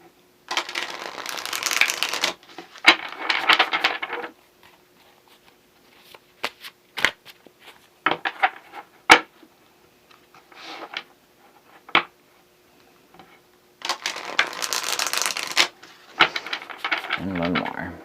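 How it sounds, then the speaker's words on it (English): Tarot cards from a Hush Tarot deck shuffled by hand in short, crisp riffling bursts separated by pauses, close and clear, with a final longer run of shuffles. "If I can quickly get these cards shuffled."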